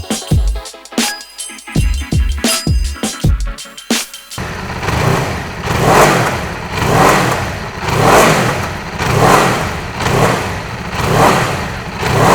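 A 2019 Aprilia RSV4 1100 Factory motorcycle engine starts up and revs repeatedly, rising and falling in steady swells after a few seconds of preceding music, loud and close with no talk.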